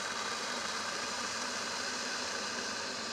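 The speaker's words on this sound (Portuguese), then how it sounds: "Usa essa maquininha aqui que você aperta ali e ele esquenta a água bem rapidinho." A small electric kettle-type machine heats water for coffee at home, giving a steady, continuous broadband hiss and hum with no voices.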